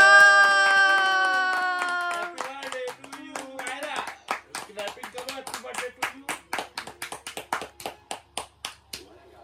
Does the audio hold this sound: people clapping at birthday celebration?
yes